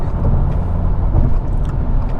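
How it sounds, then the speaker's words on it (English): Subdued hum of a 2025 Subaru WRX tS flat-four engine cruising in sixth gear at about 70 mph and 2,700 rpm, a steady low drone with road noise from inside the cabin. "It's nice and subdued, and it's also a good tone from this flat 4"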